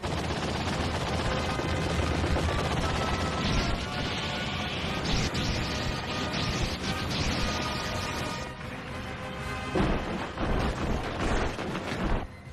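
Gunners open fire on an approaching alien swarm in a sci-fi action movie battle, with dense, continuous rattling bursts and crashes layered into a loud, busy soundtrack.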